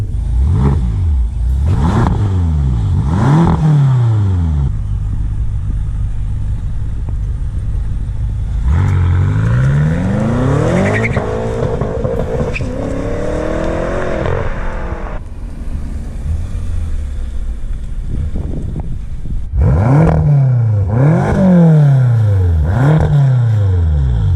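A 2013 BMW M5 with a twin-turbo V8 accelerating hard, heard from inside as a loud engine climbing through rising sweeps, cutting out briefly between gears, then several quick rev surges near the end.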